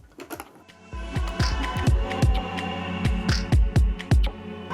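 A sewing machine runs a straight stitch, its needle clattering in quick, regular bursts up close after a brief start, with a low motor hum underneath.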